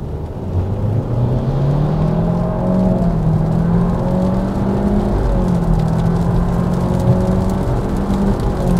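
A Nissan Qashqai 1.3 TCe CVT 4x4 accelerates hard in drive from inside the cabin, its engine drone rising steadily and smoothly without gear-shift breaks, under constant road and wind noise.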